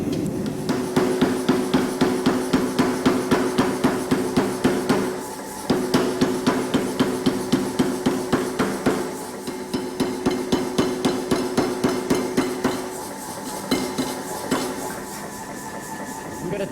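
A blacksmith hammers hot iron to taper the end of a bar for a flame detail on a garden gate, with loud, rapid, evenly spaced ringing blows in bursts and brief pauses between them.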